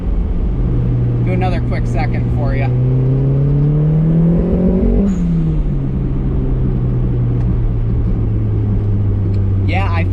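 A turbocharged budget Mazda Miata running 14 PSI of boost revs up, its engine note climbing and then falling away. The ignition breaks up and misfires under boost, so the rising whine is interrupted by ragged crackles, and someone speaks briefly over it.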